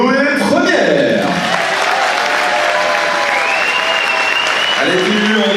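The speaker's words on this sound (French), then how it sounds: "Je vous demande d'applaudir Chloé Première." Crowd applauding the newly elected town queen of Cavaillon at an evening presentation, loud sustained clapping mixed with cheering and voices, with music or tonal sounds running underneath.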